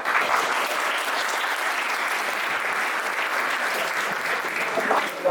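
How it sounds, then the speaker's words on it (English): An audience at a panel discussion on the Union Budget 2025 claps in dense, sustained applause, loud and even throughout, with no voices standing out. "Give a round of applause to him."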